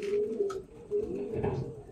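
Pigeons coo steadily in a pigeon loft, low rolling calls repeating close by over a continuous murmur of other birds.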